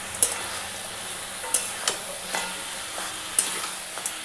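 Fish heads cooking with cabbage in a frying pan, a steady sizzle with a few separate metallic taps and scrapes of a spatula spaced across the sound, and no one talking.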